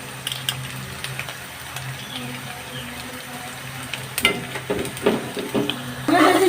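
Chopped ginger and onions frying in a pan, a low steady sizzle with occasional stirring clatter and scrapes that grow busier and louder toward the end.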